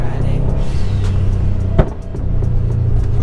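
A Subaru car engine rumbles loudly close by, rising and then released around 4000 rpm, with a brief sharp pop midway and steady low drone under faint voices.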